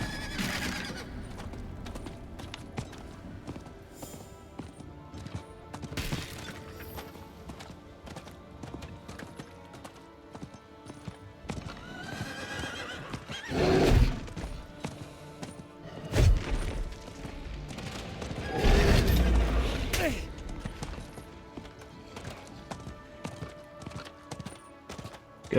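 Horse hooves clip-clopping at a gallop with repeated whinnies and neighs in Diablo IV, mixed with game combat thuds and crashes, fairly loud and continuous.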